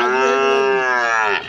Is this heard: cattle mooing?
yes